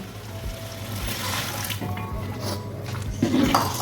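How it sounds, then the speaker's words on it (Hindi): Chicken boiling stock is poured into a pot of haleem, giving a steady splashing, gurgling pour that runs throughout at close range. "मैं 2 गिलास पानी ले रहा हूँ जी।"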